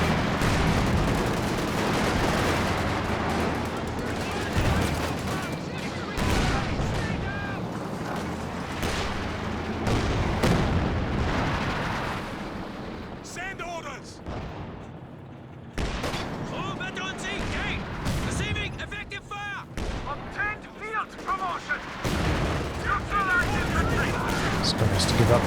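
An artillery barrage and rolling gunfire rumble through a Company of Heroes 2 match, dense explosions and rifle bursts continuing steadily while a commentator talks over the action.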